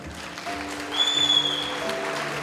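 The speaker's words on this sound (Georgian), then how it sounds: "და ტაში რა თქმა უნდა" Steady clapping from a crowd at a film premiere fills the clip, swelling slightly midway, with a faint tone in the background.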